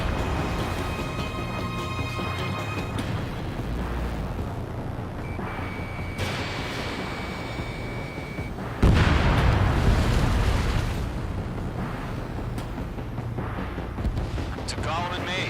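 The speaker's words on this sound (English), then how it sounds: "Missile launched." A missile launch followed by a loud boom and rumbling explosion during an Ace Combat: Skies Unknown aerial dogfight, over steady jet engine roar and game music, with radio voices talking.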